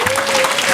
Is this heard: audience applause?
yes